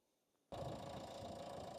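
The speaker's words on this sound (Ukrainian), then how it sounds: "Ось так, друзі, у нас працює наш двигун." A 2014 Nissan Qashqai 1.5 dCi diesel engine idling under an open hood starts up abruptly after a brief quiet moment, then runs with a steady, even clatter close by.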